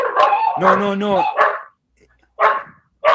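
A dog barks and yips in a played recording, several loud, close bursts of bright, voice-like barking separated by short silences.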